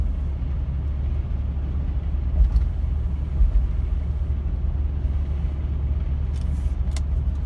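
Low, steady rumble of road and engine noise inside a 1996 Lexus LX 450 SUV cruising at 80 km/h, a constant drone with a couple of faint clicks.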